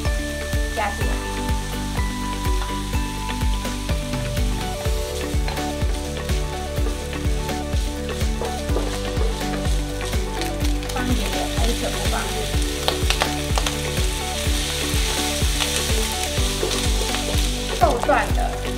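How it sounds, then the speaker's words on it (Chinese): Minced meat stir-frying in a wok with fermented black beans and garlic, giving a loud, continuous sizzle with repeated scraping stirs close up. "绞肉炒出这样子会有油光油光的时候，油油亮亮的时候，我们就把刚刚的豆豉跟大蒜"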